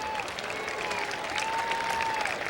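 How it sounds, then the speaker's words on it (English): Crowd applause at a Portage County demolition derby, continuous clapping at moderate distance, with a sustained steady tone gliding through it. "Let's give a round of applause."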